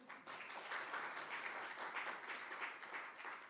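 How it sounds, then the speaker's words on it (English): An audience at an evening public natural history lecture applauds steadily, a soft, even wash of clapping from many hands heard at a distance without voices. "Go ahead, you can applaud."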